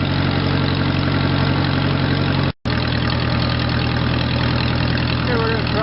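Case 430 tractor engine running steadily during a test drive across a farm field, a loud continuous low chugging drone close by, broken only by a brief dropout.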